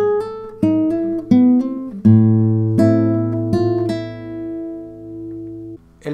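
Classical guitar slowly plays the opening two bars of a waltz, with plucked notes and chords ringing out one after another in a clear, close, unhurried line.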